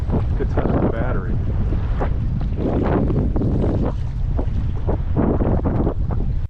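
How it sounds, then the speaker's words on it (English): Strong wind roars across open water around a small fishing boat heading into rough conditions, a loud, continuous buffeting rush with gusting surges throughout. "already the wind is way, way more than it was supposed to be"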